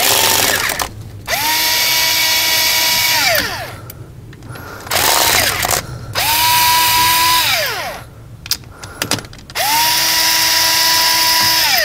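A power drill backs screws out of a 2015 Honda Odyssey sliding-door lock actuator in three separate loud whirring bursts, each rising and holding a steady motor whine before stopping, with short quiet gaps between them.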